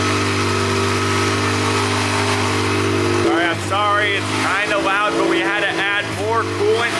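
A Honda K24 engine swapped into a 240 hatch runs steadily and loudly at idle while a person talks over it, the drone dipping midway.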